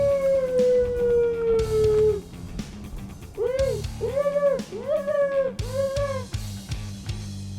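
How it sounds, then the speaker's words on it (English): A dog howls in long, sliding, wavering tones outdoors in Ontario woods, first one sustained howl, then a series of shorter rising-and-falling howls, loud and close with some rumble behind. "Oh, the dog's getting frisky"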